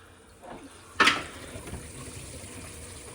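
Water splashes out of a loosened kitchen sink trap, a sudden short gush followed by lighter dripping and trickling, close and fairly quiet.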